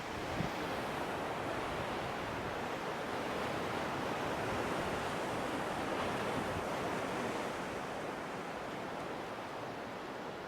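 Sea waves roll onto a Thailand beach in a steady, full wash of surf with some wind, continuous and fairly loud throughout, with no voices.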